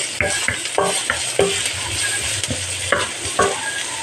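Garlic sizzling and frying in a pan for paella, with a steady hiss broken by repeated close stirring and scraping strokes at an uneven rhythm.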